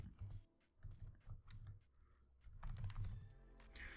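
Fingers tap on a sticking computer keyboard in uneven bursts of clicky keystrokes with short pauses, close and moderately loud.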